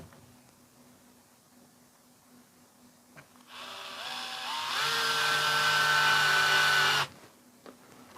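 A power screwdriver drives screws while a pocket door is fitted in a bathroom renovation, one close whirring burst that starts, rises in pitch and holds steady for a few seconds before stopping abruptly, after a quiet stretch.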